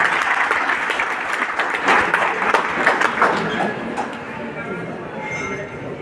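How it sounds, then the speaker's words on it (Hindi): Loud, dense applause from an audience at a Skill India certificate event, sustained throughout and thinning slightly toward the end, with some voices mixed in. "एक बार जोरदार तालियों से सबका स्वागत कीजिए"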